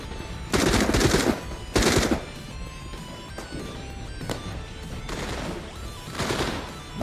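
Rapid machine-gun bursts and gunshots from The Walking Dead: Saints and Sinners, a VR zombie game, with two loud volleys early on and scattered shots and crashes after, close and dense, with no talk.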